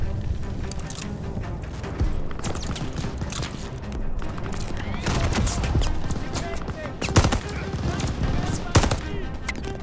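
Sustained rapid gunfire in Call of Duty: Vanguard, with machine-gun bursts and sharp shots layered over battle noise, loud and continuous with brief spikes, while voices call out beneath.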